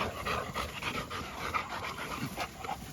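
A large mixed-breed dog pants steadily up close, quick rhythmic breaths running through the whole stretch with no talking.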